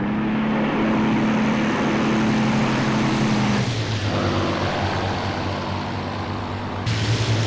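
Spitfire engine in IL-2 drones loudly and steadily, a propeller hum that shifts pitch lower partway through and keeps running close and continuous.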